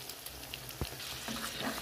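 Spice paste with Kashmiri chili, coriander powder and sour yogurt being sautéed in a pan makes a soft, quiet sizzle with a single sharp knock and light stirring scrapes, heard close.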